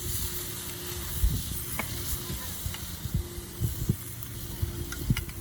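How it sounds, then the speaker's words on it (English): Gochujang-marinated pork chops sizzle on a charcoal grill outdoors, a steady close hiss of searing meat broken by faint crackles and light pops. "now I'm gonna put the pork chops on"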